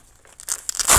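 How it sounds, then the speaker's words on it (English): Velcro on an NXE Extraktion Base harness pouch being torn open, a short crackling rip that starts softly and builds to a loud, close burst at the end. "It's got Velcro all the way around it, so you can rest assured that it's going to stay in there."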